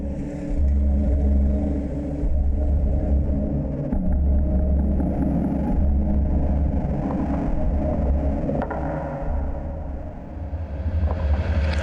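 A car engine runs steadily nearby, a continuous low rumble with slight swells in level throughout and no talking.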